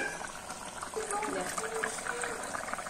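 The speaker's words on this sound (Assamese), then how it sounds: "মই একদম ধুনীয়াকৈ বক বককৈ উতলি আছে" An Assamese fish curry with potatoes simmers in a pan, giving a soft, steady bubbling and gurgling at moderate level with small liquid pops, while faint voices murmur in the background.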